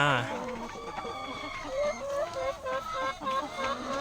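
Chickens cluck near a farm egg basket during egg collecting, a busy overlapping run of short clucks throughout, with people talking faintly in the background.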